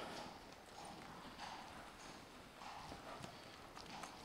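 Horse walking in an even rhythm during a riding exercise, soft regular hoofbeats clopping close by at a steady walking pace, faint and without voices.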